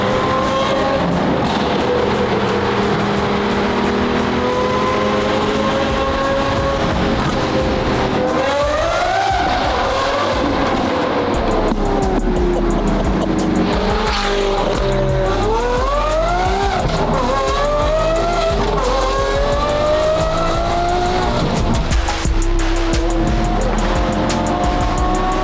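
A Lamborghini SVJ with a naturally aspirated engine is driven hard on a road, its loud engine note rising and falling through repeated revving sweeps and gear changes, with occasional tire squeal, close and continuous.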